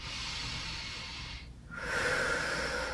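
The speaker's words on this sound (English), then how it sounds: "Just take a couple nice deep breaths" Deep breathing during a Pilates stretch on a mat with a block: a long, airy exhale, a brief pause, then a fuller, louder breath drawn in close to the microphone.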